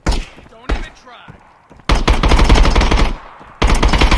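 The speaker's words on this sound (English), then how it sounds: "Shot all the bullets out of my mag, so I have to rechamber it." Gunfire in the video game Contractors, with two short bursts of rapid automatic shots, loud and close, separated by a quieter stretch carrying brief voice sounds.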